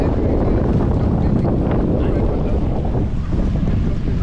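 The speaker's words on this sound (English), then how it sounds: "a rainstorm decided to come by, and as you guys see, everybody's getting wet" Wind gusts and rain batter an open boat at sea off Key West, a loud, steady roar of wind buffeting and water spray that carries on without a break.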